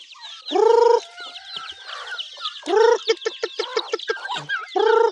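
Chickens and chicks cluck in a farmyard, with repeated loud harmonic calls and rapid clucking bursts up close, and thin high chick peeps running throughout.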